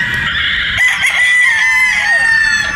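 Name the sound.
Boston Roundhead broodstag roosters crowing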